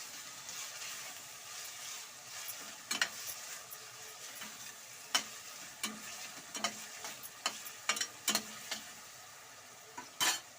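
A spoon stirs semolina and salt in a pan while making uppittu, with soft continuous scraping and gritty shuffling broken by sharper metallic clicks and taps.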